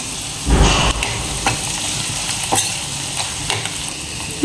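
Tomato gojju fries in a pan as turmeric powder goes in, giving a loud, close, steady sizzle broken by a few stirring scrapes.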